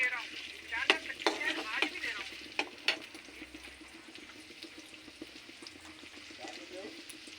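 Garlic and chopped ginger frying in hot oil in a wok, a close crackling sizzle with bursts of spattering early on that settle into a quieter steady fry.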